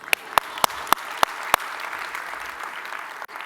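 A conference keynote audience applauding: a few sharp, evenly spaced claps ring out near the front, then blend into a softer, sustained wash of clapping from the crowd.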